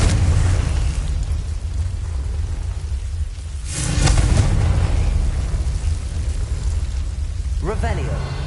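A Confringo fire spell bursting in Hogwarts Legacy, a loud booming blast midway that rolls into a crackling rumble over continuous game background noise.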